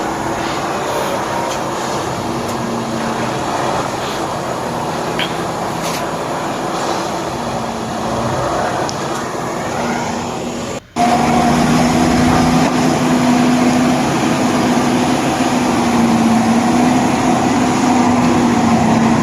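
A heavy railway track maintenance machine in Russia drones steadily nearby with a low engine rumble and a rising mechanical whine, joined by vibration and clanking on the rails as it lifts, levels and vibrates the track.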